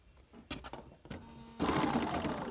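Sewing machine stitching La Passacaglia quilt star points, with a few soft clicks followed by a short, steady run of stitching, quiet and close.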